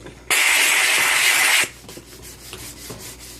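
A triangle brush head on a McCulloch MC1385 deluxe canister steam cleaner scrubs a surface in one loud, close, continuous rasping burst of about a second and a half, followed by quieter faint scrapes.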